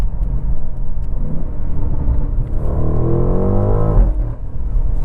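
A 2024 BMW M8 Gran Coupe V8 drives close by with a deep steady rumble that climbs into a rising rev midway, then settles back, loud and with no talking.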